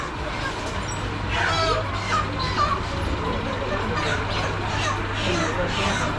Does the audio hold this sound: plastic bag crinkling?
no